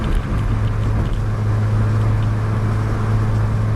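A steady engine drone with road rumble from a 1970s-era Holden Torana 1300 with a four-speed gearbox, holding an even pitch cruising in fourth gear at about 80, no voices.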